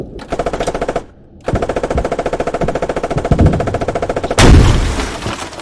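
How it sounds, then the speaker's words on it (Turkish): Sustained automatic gunfire from infantry in the Squad video game: rapid rhythmic bursts with a brief pause, followed by a louder heavy boom near the end. "Piyade sıkıyor abi bize şu an."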